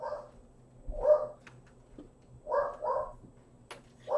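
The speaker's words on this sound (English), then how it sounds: "I'm sorry about the dog, that might be our mail arriving" A dog barks indoors in a short, broken series of about four or five barks, with pauses between them, heard at moderate distance over a quiet room.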